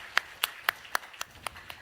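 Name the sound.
congregation applause in church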